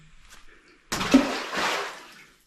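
Water flooding the crawl space under a house, about two feet deep in places: after a quiet start, a sudden loud splashing gush surges, then churns and fades away.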